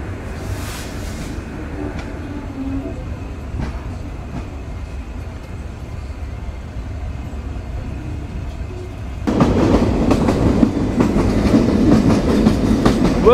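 The Shimanto Express rolls along its rails near Pakshi station and the Hardinge Bridge, a steady rumble with rhythmic clatter that swells louder and harsher for the last few seconds, with no voices.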